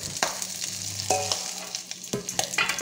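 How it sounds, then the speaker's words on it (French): Onion and garlic frying in leftover beef juices for boeuf bourguignon, a steady close sizzle with a few sharp scrapes of a stirring utensil against the pan. "Je garde les sucs de la viande. Je mets mon oignon et mon ail."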